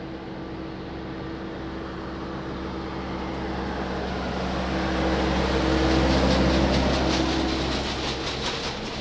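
A Boeing 777 airliner at Lisbon Airport, a steady distant jet roar that slowly swells louder toward the middle and then eases slightly, with no talk.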